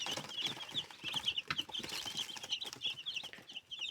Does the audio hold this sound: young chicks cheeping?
yes